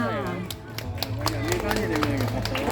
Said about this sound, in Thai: ขอเสียงปรบมือดังๆให้น้องด้วยค่ะ